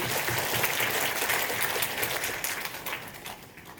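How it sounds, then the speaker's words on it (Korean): An audience claps to open a Korean language program graduation ceremony at Keimyung University, a full, even burst of applause that gradually fades toward the end. "모두 큰 박수로 시작을 알리면 좋겠습니다."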